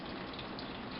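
Elderberry liquid pours slowly through a cheesecloth strainer into a pot, a brief, steady, close-up gush of trickling liquid.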